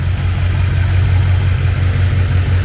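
A 1200HP BMW X6M engine just after its first startup idles loud and close, with a steady, even rumble that holds without a break.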